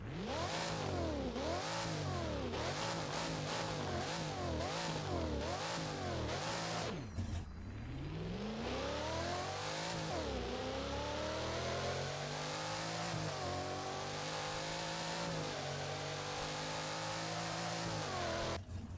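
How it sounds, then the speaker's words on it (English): A Hennessey Venom F5M in the Roblox game Driving Empire revs hard and loudly, with repeated rising and falling bursts of engine pitch followed by a long sustained climb, alone with no talk. "And here's the revving."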